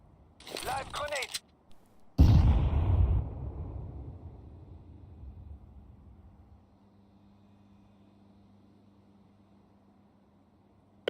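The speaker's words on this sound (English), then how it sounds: "Live grenade." A grenade detonating in Counter-Strike 2: a single loud, close boom right after brief speech, trailing into a long rumbling decay that fades to near silence.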